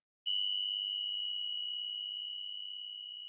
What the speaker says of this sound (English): or Tibetan meditation bells